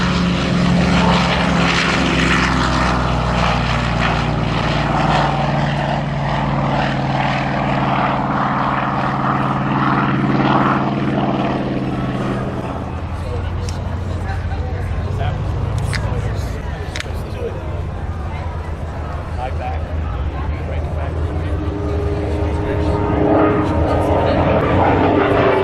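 Propeller aircraft with an 18-cylinder engine taking off at the Geneseo air show: a loud, rumbling engine roar that holds strong, then shifts and eases as it moves away, with an announcer talking over it.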